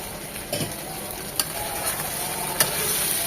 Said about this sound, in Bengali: একদম কষিয়ে 2 থেকে 3 মিনিট কচুটা টমেটোটা কষবে